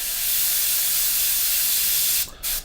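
An airbrush sprays yellow-green paint onto 1/20 scale Tamiya RB6 model parts, a steady close hiss that runs unbroken for about two seconds before briefly cutting out and starting again.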